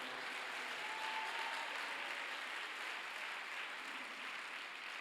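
A church congregation applauds, a steady wash of many hands clapping together that is fairly faint and distant and carries on without a break.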